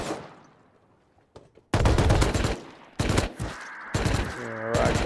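Bursts of AK rifle fire in the Rust console video game, several rapid volleys and single loud shots close by, separated by short gaps, with a voice briefly heard between shots.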